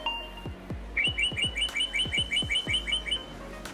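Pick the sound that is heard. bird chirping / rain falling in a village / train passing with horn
bird chirping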